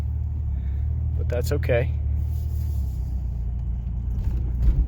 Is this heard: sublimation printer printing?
no